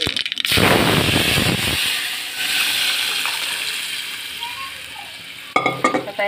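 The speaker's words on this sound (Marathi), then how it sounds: "चांगलं तडतड झालं ना आणि आपण असं फोडणी देऊ." Hot tempering of cumin, mustard seeds and curry leaves in oil for dal palak, heard as a loud rushing sizzle and crackle that slowly dies down, with sharp clinks of a utensil at the start and end and no talking.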